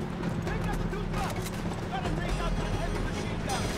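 Horse hooves in Uncharted 3: Drake's Deception, a dense run of quick rhythmic clip-clops mixed with mechanical rattling and a low rumble, steady and moderately loud throughout.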